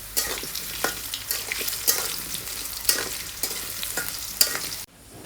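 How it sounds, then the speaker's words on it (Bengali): Potato pieces frying in oil seasoned with black cumin, a continuous bright sizzle broken by repeated scrapes and stirs of a spatula, close and clear, ending abruptly. "তো আলুগুলা লাল লাল করে ভেজে নিব সুন্দর করে।"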